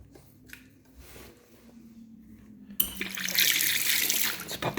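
Water bursts from a tap in an old former convent building after a near-silent start, gushing loudly and steadily as a broad, hissing splash for the final couple of seconds.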